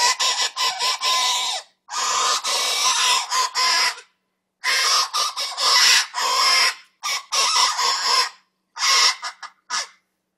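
A hunting lure call imitates a hare caught in a goshawk's claws, giving loud, harsh, raspy squeals in irregular bursts with short gaps between them.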